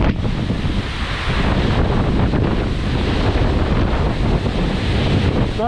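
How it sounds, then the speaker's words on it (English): Heavy rain pours steadily onto the roof of a cotton gin building, a dense, loud, unbroken hiss and roar that fills the whole stretch without any pause. "I love this rain. I love it."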